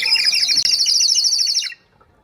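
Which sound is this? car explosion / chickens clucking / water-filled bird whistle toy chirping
water-filled bird whistle toy chirping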